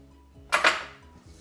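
Diced red onion drops into a pan with a brief clattering rush of pieces hitting metal, two quick close bursts that fade within half a second over a quiet musical background.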